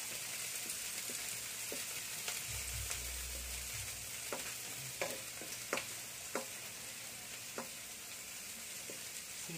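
Garlic, onion and ginger sautéing in a pan for sinigang sa miso crackle in a soft, steady sizzle, punctuated by scattered sharp clicks of stirring and a brief low thump early on.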